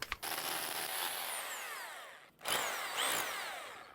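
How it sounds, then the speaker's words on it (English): A power drill whines loudly as it bores through a brick house wall into the garage, pausing briefly mid-way before spinning up again, close and continuous. "So you can drill through the first course."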